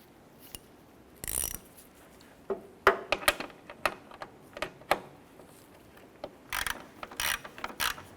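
A ratchet tightening a nut on the back of a marker light on a 1993-1997 Ford Ranger, with bursts of rapid clicking ratchet strokes and separate sharp ticks, close and fairly quiet, no talking.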